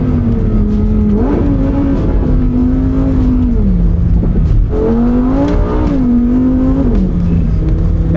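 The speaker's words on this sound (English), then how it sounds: "there's a real joy to hearing that V10 kind of bouncing on the limiter" A Lamborghini Huracan Sterrato V10 bounces against its rev limiter as the wheels slip on loose ground, a loud, close, buzzing engine note that surges, holds, dips and surges again twice, with no talk.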